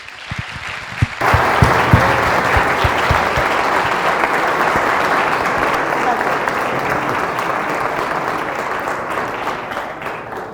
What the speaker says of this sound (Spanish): os pido que recibamos con un fuerte aplauso a Óscar.